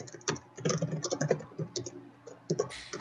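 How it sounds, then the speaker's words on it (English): Someone types on a computer keyboard nearby during a developer panel, with quick irregular clusters of clicky keystrokes over roughly three seconds and no one talking. "Somebody's typing."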